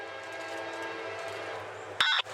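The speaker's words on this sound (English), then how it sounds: "M544 hauls north past the yard, as train G303 sits patiently in the siding here" A CSX freight train rumbles steadily past a rail yard, close and continuous, then a short loud horn blast cuts in near the end.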